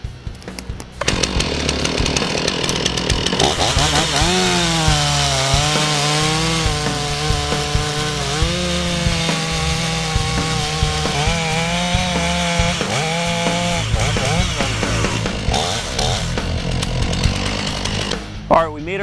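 A chainsaw cutting the face notch while felling a tree, the engine revving up and holding a loud, steady snarl as it bites into the wood, then easing back to idle.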